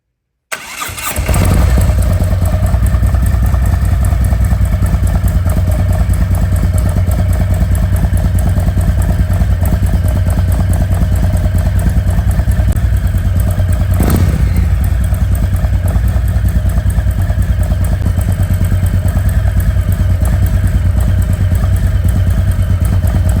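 A Harley-Davidson motorcycle engine cranks and fires, then settles into a loud, steady, rumbling idle close by for the rest of the stretch, with a single sharp click partway through.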